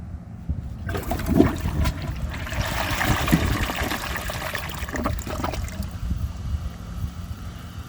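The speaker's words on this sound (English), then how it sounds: "see if it can take the rest of that with another flush" A 2018 Delta Turner toilet flushes with a steady rush of water that builds, swirls loudly for several seconds and then settles into a trickle as the bowl drains.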